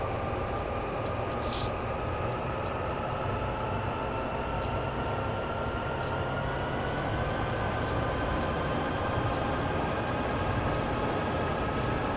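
An EMD SD70ACe diesel locomotive in a train simulator game hauls along with a steady, continuous engine drone and rolling rail rumble, loud and unbroken throughout, with faint high tonal whines and no talk.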